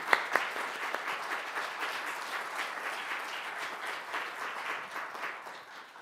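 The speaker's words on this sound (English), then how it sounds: "Will you please join me in a round of applause?" A church congregation applauds at a Sunday service welcoming new members, a dense wash of many hands clapping steadily for about six seconds, with a couple of sharper claps near the start and no talking over it.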